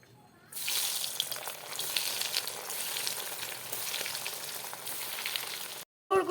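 Chicken cheese balls deep frying in hot oil give a steady, dense sizzle that runs unbroken for several seconds, then cuts off abruptly near the end.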